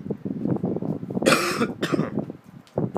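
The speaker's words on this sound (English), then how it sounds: "Well, yeah, I got a cough." A single harsh cough bursts out, close and loud, set among low muffled voice sounds.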